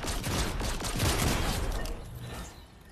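Gunfire in an online shooter game, a dense burst of rapid shots and a shotgun blast crackling together for about two seconds before fading into quieter background noise.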